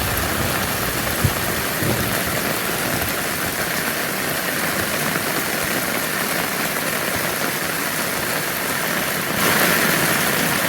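Steady heavy monsoon rain pours down without a break, a dense hiss with a low rumbling undertone, growing slightly brighter near the end.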